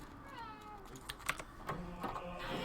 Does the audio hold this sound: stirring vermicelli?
no